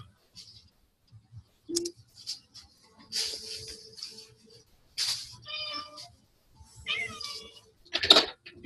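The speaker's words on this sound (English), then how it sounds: "You might hear my cat there in the background," A house cat meows several times in the background, a few short rising calls with gaps between them, moderately close amid quiet room noise and small clicks.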